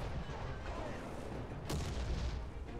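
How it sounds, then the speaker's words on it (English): Artillery fire in the tank battle video game War Thunder: a single dull boom with a sharp crack lands midway through a steady, dense background of rumbling battle noise, moderately loud and not too close. "Artillery fire."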